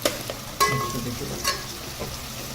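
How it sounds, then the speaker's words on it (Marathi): Besan mixture frying in a pan gives a steady soft sizzle, with a few brief clinks of a utensil against the pan scattered through a short stretch. "मस्तपैकी आता हा फ्राय करून घ्यायचा एकदम."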